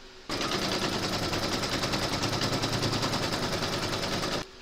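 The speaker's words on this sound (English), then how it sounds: "you're going to stitch round number one, and that's going to give you your placement outline for your fabric and batting" An embroidery machine stitches a coaster placement outline in a loud, continuous, rapid mechanical rattle that starts abruptly, runs close for about four seconds and then stops.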